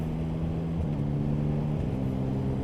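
A 2025 Yamaha MT-09 SP motorcycle cruising in sixth gear at about 60 km/h and just over 2,000 rpm gives a loud, steady low engine drone with slight pitch shifts and wind noise, with no talking.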